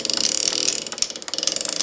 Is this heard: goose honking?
no